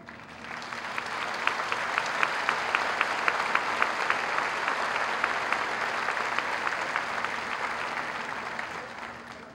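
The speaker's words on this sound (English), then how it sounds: "I would ask you to join me in honoring him with another round of applause" Audience applause at a graduation ceremony after a salutatorian is honored, a long, steady round of clapping from a large crowd, with sharper individual claps standing out near the front.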